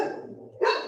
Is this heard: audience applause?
no